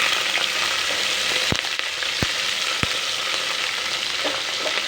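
Green chillies fry in a pan over a low flame with a constant bright sizzle, broken by a few sharp stirring knocks.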